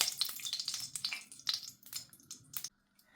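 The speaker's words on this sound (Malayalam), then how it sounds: "വീണ്ടും പാൻ ചൂടാക്കിക്കൊണ്ട് നെയ്യ് ഒഴിച്ചു കൊടുക്കുക." Ghee sizzles and crackles in a hot pan for chicken ghee roast, with short bursts of spitting and frying close by, stopping abruptly before the end.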